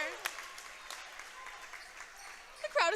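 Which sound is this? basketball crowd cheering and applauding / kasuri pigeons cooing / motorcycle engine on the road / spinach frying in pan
basketball crowd cheering and applauding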